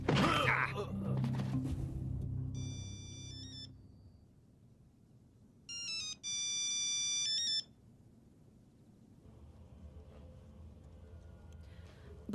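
An unanswered telephone rings in electronic bursts, two separate spells of tonal trilling, the second longer, between stretches of quiet room tone after loud voices and commotion.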